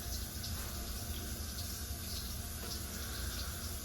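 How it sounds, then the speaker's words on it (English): Water runs steadily into a floor drain line in a beauty supply store, a continuous broadband rushing and trickling with no break and no voices. "So I got the water coming in this part of the line here."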